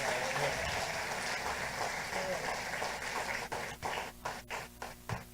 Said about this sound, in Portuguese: Você pode dar uma salva de palmas pela vida dele?